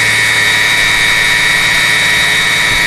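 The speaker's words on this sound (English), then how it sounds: "All that racket appears to be the air pump, which injects air into the exhaust on startup for emissions" Failing secondary air pump on a 2002 BMW 325i engine at startup, a loud steady whine and drone running continuously over the idling engine with no pauses.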